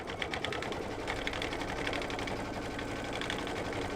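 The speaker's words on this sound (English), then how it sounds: "the next color stop is going to do the satin stitch around the edges" Embroidery machine sewing a satin stitch around the edges of a tree design on a mug rug, a steady rapid needle clatter running continuously and close.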